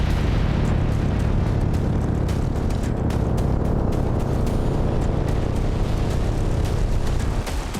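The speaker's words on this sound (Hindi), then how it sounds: "विक्टोरिया बेस पर हमले के बाद एक साथ कई धमाके सुनाई दिए।" Multiple explosions after an attack on Victoria Base in Iraq, a continuous loud roar of blasts and rumbling booms filling the whole stretch with no pause, heavy low-end energy throughout.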